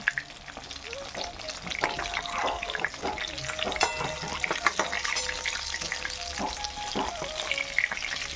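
Fish frying in a pan in a village kitchen, a busy crackling sizzle with frequent clatters and scrapes of a spatula, fairly close, no clear talk.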